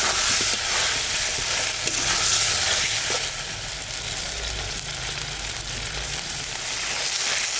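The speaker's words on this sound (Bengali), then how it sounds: "মাছটা শুধু মশলা দিয়ে করবো, তো ভাজা ভাজা হয়ে গেছে।" Spices frying and being stirred in a pan for a pangas fish curry, with turmeric and chopped tomato added, giving a steady close sizzle with scraping stirs throughout and no talk.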